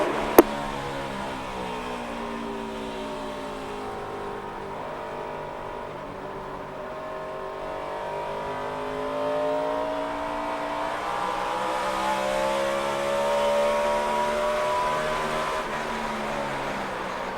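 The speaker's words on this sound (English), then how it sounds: "Green flag out, and let's go racing with Dale Earnhardt Jr." A 2007 NASCAR Nextel Cup stock car with a V8 drones steadily at race pace, heard from inside the car. The engine climbs and falls in pitch through gear changes, with a sharp click at the start.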